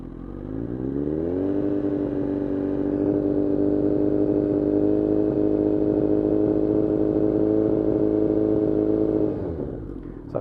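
A Kawasaki Z1000 motorcycle engine idles, then climbs smoothly to a steady 3,000 rpm. It holds there as a loud, close, harmonic drone for about eight seconds, then drops back down.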